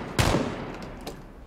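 Gunfire in the battle royale video game PUBG: one loud close shot near the start, then a fainter second report about a second later, alone with no talk.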